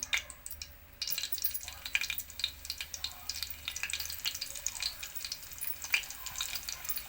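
Green chillies hit hot oil in a pan for a fish curry, setting off a sudden crackling sizzle that keeps popping steadily and close up, with no talk.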